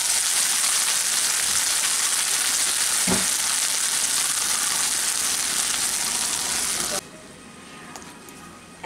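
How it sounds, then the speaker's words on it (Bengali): Peanut or nut paste masala sizzling and frying in hot oil for a Bengali brinjal curry, a steady loud crackle with a brief stir scrape near the middle, dropping abruptly to a quieter hiss toward the end. "এখন এই মশলাটাকে আমি 1 মিনিট মতো তেলের মধ্যে ভালো করে নেড়ে নিচ্ছি।"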